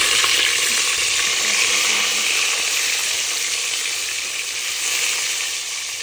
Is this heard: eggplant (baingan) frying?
yes